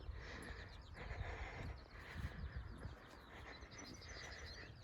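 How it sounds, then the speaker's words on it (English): Birdsong on a countryside spring walk, with scattered chirps and calls at moderate distance over a faint outdoor background of rustling and footsteps. "And just listening to the bird song"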